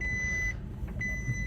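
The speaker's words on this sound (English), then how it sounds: "Sorry about the seatbelt beeping." A car's seatbelt warning tone sounds steadily, cuts out briefly, then resumes, over the low rumble of the engine and road.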